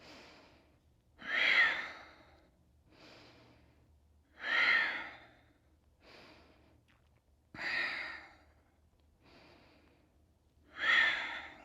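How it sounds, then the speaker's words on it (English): Strong rhythmic breaths from a person holding yoga boat pose: four forceful, hissing exhales spaced evenly about three seconds apart, close and fairly quiet, with softer inhales between them. "Strong breaths here."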